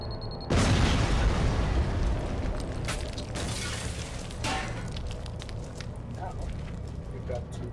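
A silo explodes in the Borderlands video game: a sudden heavy boom bursts out loud and close, then a long rumbling roar with scattered debris crackles slowly fades beneath it, while voices talk over the gameplay.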